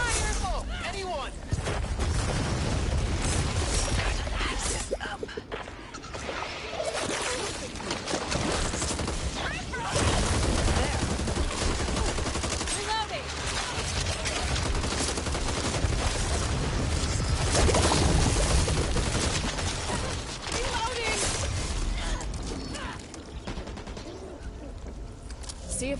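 Dense gunfire in the zombie shooter video game Back 4 Blood, continuous rapid shots and bursts with booming explosions, loud and sustained, with voices talking over the combat.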